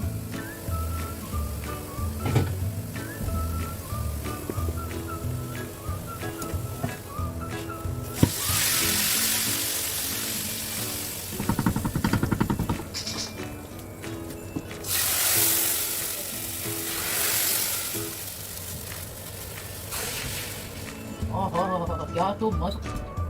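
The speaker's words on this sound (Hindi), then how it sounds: "अभी ना तड़का लगा रही हूँ" Cumin, garlic, ginger and green chili tempering in hot oil for Pakistani-style pakora kadhi, giving bursts of loud sizzling hiss that rise and fade repeatedly, mixed with kitchen clatter and someone talking over it.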